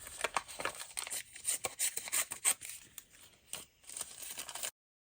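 Scissors cutting paper bits for a stuffed envelope pocket: close, soft crisp snips and rustling paper in an irregular run, ending abruptly in silence.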